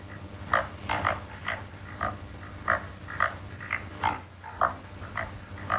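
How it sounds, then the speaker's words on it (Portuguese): Pig oinking in a quick series of short grunts, about a dozen nasal snorts in an irregular rhythm, fairly close and clear over a faint low background hum. "É um porco mesmo!"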